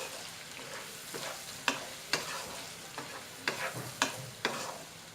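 Potato fry being mixed in a pan after lemon juice is added, with a low sizzle and a series of distinct spoon scrapes and taps against the pan, close and moderately quiet.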